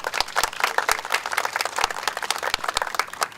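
A small audience at a senior center vehicle recognition ceremony gives a round of applause, individual claps distinct and uneven, fairly close and steady for several seconds without speech.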